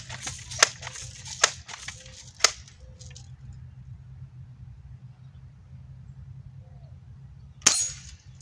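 Sharp cracks from a Crosman M4177 air rifle ring out outdoors, several spaced shots with one final louder impact, over a steady low background rumble.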